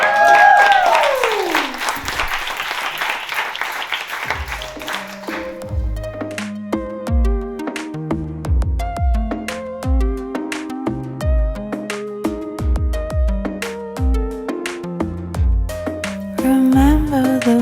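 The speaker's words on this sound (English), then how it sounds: "Can we have a round of applause?" An audience at a live music session bursts into loud applause and cheering for a few seconds, followed by plucked, rhythmic instrumental music playing on.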